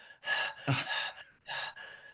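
A voice imitates someone gasping for breath while upside down in a headstand: a few sharp, strained, breathy gasps close to the microphone, with no words.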